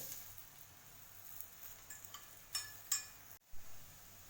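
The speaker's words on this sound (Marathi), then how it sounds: "दोन्ही बाजूने तेल टाकून थालीपीठ खरपूस भाजून घ्यायचं" A jowar flour thalipeeth fries quietly in oil on a pan with a faint, soft sizzle. A few light clinks and scrapes come near the end, followed by a short silence.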